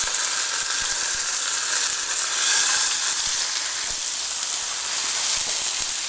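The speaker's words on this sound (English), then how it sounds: "we're going to sear this beautiful pork loins" Pork loins searing in a hot pan after golden-brown garlic is removed, a loud steady sizzle and hiss close up, continuous throughout with faint clinks.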